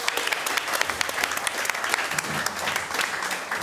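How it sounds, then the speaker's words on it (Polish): Audience applause at a live podcast stage show during a festival, a dense, even wash of clapping that holds steady for a few seconds. "Wielkie brawa!"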